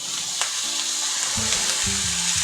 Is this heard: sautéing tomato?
yes